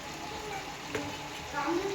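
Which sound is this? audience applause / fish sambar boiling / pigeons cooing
fish sambar boiling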